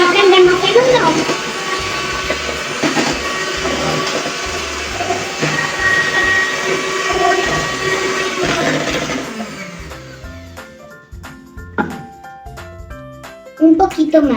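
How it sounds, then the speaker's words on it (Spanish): Electric hand mixer whirring in a bowl of chocolate cake batter, a loud continuous motor drone for about nine seconds that then cuts off, followed by scattered clinks and quieter kitchen noises. "Es la hora de la batidora en acción."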